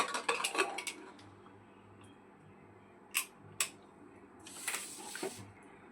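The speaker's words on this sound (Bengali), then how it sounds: "এবারে আমরা প্রেসার কুকারের ঢাকনাটা আটকে দেব।" A metal pressure cooker holding dal is sealed with its lid, giving faint metallic clinks and clacks in a cluster at first, then a few isolated sharp clicks against a quiet kitchen background.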